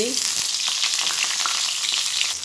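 Bengali-style fritters made from the head of a fish, frying in hot oil in a pan, giving a dense, continuous close crackling sizzle with no talk.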